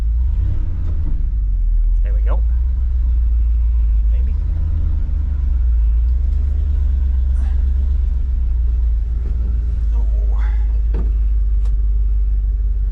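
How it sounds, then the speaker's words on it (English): Plow truck starting its first run of the season and moving for the first time, its engine rumbling steadily throughout while it backs up in reverse, with a man's occasional brief remarks over it. "First run for the plow truck. First time it's moved, and gotta put it in reverse."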